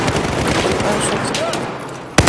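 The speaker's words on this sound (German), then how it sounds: "Ein Schuss." Rapid bursts of Battlefield 4 multiplayer gunfire rattle under a steady noisy background, ending with a single sharp, loud shot.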